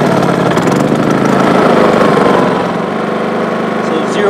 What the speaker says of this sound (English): Let's turn the generator on first. Let it run for about a minute or so.